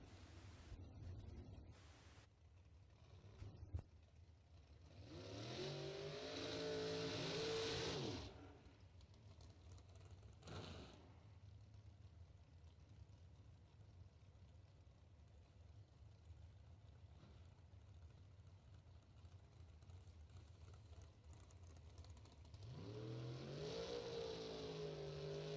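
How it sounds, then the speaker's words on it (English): A Camaro drag car at a bracket racing event does a smoky burnout. A loud, rising engine roar with harsh broadband screeching fills the middle of the clip, drops to a steady rumbling idle, then revs hard again near the end. "Big smoky burnout for Christine."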